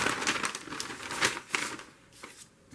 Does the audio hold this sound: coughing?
no